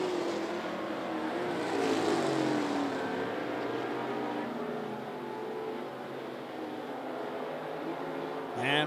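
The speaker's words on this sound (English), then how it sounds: "And Chase King makes his way around to put a lap down on the third place car" Thunder and Lightning class race cars lap 411 Motor Speedway, their engines droning steadily with sweeping pitch shifts as they pass, and a louder burst comes near the end.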